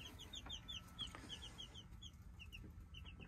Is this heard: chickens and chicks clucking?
yes